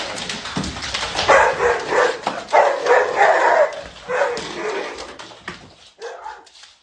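A dog barks and whimpers in a run of yips, whines and bow-wows, close and lively with uneven bursts that trail off into softer whines.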